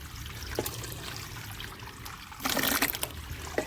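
Thick organic liquid fertilizer slurry is poured out onto black pepper plants in a short splashing stream that starts suddenly after a quiet stretch.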